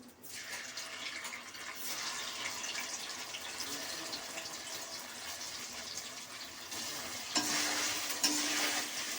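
Paneer frying in a pan makes a soft, continuous sizzle close by, with faint stirring and a watery hiss, growing slightly louder near the end; no talking.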